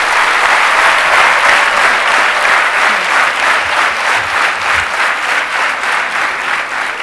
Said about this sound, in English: Can I have, again, a huge round of applause for Shreyas?